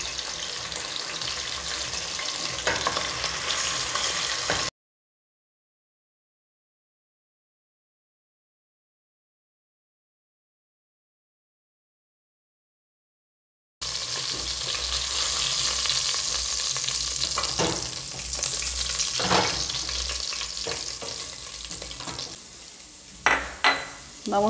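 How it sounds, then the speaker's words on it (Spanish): Chicken pieces searing in a pan, a steady frying sizzle with stirring scrapes and clinks, broken by a long stretch of silence in the middle, no talking. "Vamos a sellar nuestras presitas de pollo."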